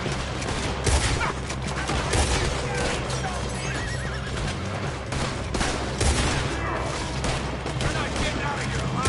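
Gunfire in the video game Red Dead Redemption crackles in a dense, continuous fusillade throughout, with horses whinnying and hooves clattering amid the shooting and occasional voices in the chaotic mix.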